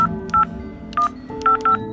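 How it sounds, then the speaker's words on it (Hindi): Phone number being dialed on an untraceable phone, six or so short touch-tone beeps in an uneven rhythm, close and clear over a low background drone. "मेरे ड्रॉवर में मेरे पास एक फ़ोन था जो कि अनट्रेसेबल था, और मैं उस नंबर को डायल करने लगा।"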